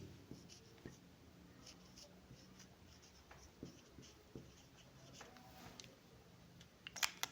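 A pen writing on paper while a physics problem is worked out, a faint close scratching run with small taps and strokes, and a louder scratch near the end.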